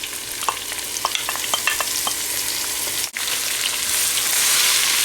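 Onions hit hot oil with ginger and garlic for a goat curry, giving a steady loud sizzle while a spoon scrapes and stirs the pan in quick bursts, with a brief dip partway through.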